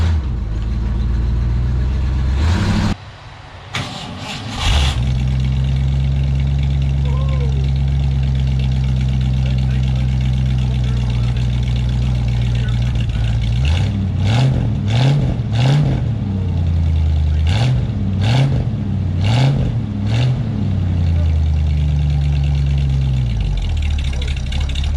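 A 1968 car with a repaired exhaust heard from the rear: a loud, deep, steady idle, a brief dip, then repeated sharp revs rising and falling in quick succession, close and powerful throughout.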